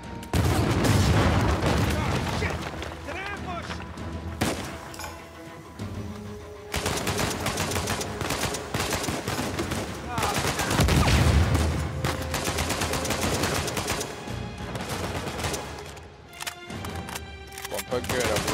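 Sustained video game gunfire from Uncharted 4 during a wave-based firefight, with bursts of shots and booms running almost continuously at high loudness, layered under a player's talk.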